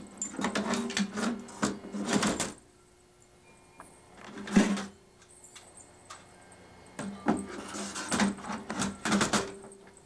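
A DE8 paper folding machine set only to perforate and score paper runs in rapid, rhythmic clattering bursts, stopping briefly and starting again, close by.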